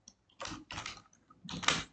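Quiet typing on a computer keyboard: a few short bursts of clustered key clicks with brief pauses between them, close and faint.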